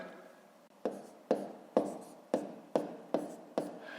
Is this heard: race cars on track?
no